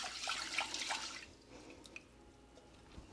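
Plain white rice being rinsed in water, with splashing and swishing in the first second and a half that then settles into faint drips and quiet trickles.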